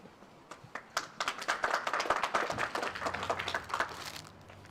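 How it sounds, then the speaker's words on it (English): Audience applause at the Miss Navajo Nation pageant, a round of clapping for an honored guest that builds from scattered claps into steady, fairly loud applause before easing off at the end. "Let's give him another round of applause."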